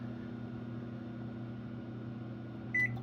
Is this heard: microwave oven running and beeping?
yes